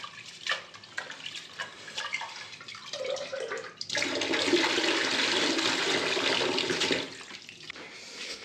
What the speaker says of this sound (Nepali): यहाँ पानी हालेँ नि मैले